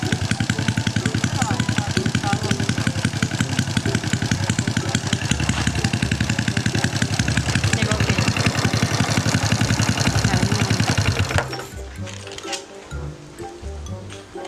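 A Honda Dream motorcycle engine chugs loudly at idle with repeated revs before dropping to a quieter idle near the end; a voice is faintly audible beneath.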